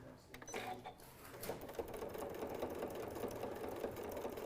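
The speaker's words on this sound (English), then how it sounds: "just sew it all the way around" A sewing machine stitches fabric for a nativity-scene craft, its steady rapid whirring running throughout, with someone talking over it.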